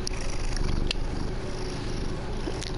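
A cat purrs in a Spider-Man video game, a steady low rumbling purr that holds for the whole stretch with no voices over it.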